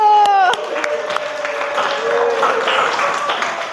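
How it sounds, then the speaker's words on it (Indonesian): A classroom crowd claps together in a dense, sustained burst of applause, with a few voices calling out near the start. "Tepuk tangan dulu."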